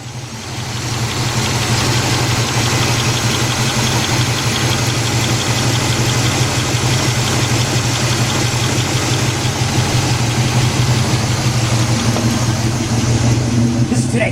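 A 1977 Buick LeSabre 350 V8 engine idles steadily up close after a gasket overhaul, a loud, even rumble that holds without revving for the whole stretch.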